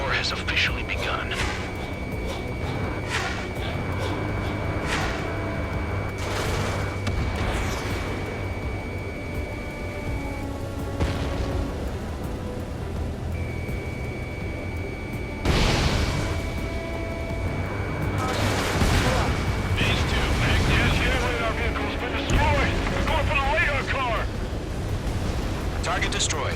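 Anti-air gunfire and explosions from the combat flight game Ace Combat 7 form a dense, continuous roar of booms and rumbling blasts, with heavier bursts swelling and layering over one another.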